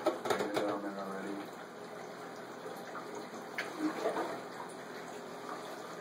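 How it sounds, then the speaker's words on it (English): Water rinsing through trays of sprouting organic barley grass and draining below, a soft trickling and splashing over a quiet background, faint and continuous with a few brief knocks. "You can see the water draining down there already."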